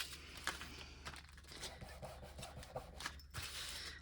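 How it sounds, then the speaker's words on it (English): Steady, dry rubbing of a tool dragged along paper for a craft project, a soft continuous scraping with small bumps and crinkles, close and fairly quiet. "Just literally rubbing it along."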